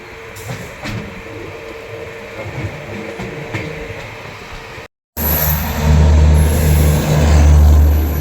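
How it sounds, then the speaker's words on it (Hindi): A New Delhi–Hasanpur Road special train rolls past close by, a dense roar and rattle of wagons that swells louder after a brief cut, with steady rumble and hiss and no voices. "नई Delhi Hasanpur road special train है ये।"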